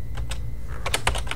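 Rapid keystrokes on a computer keyboard while entering a name into a certificate layout in MS Publisher, a close, clattering burst of taps coming in uneven clusters over a low background hum.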